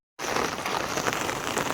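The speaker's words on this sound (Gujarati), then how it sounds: "જો વરસાદ આવે છે જો અહીંયા" Steady rain falling by a river during the monsoon, a dense even hiss of drops that starts abruptly and continues close and loud with no voices.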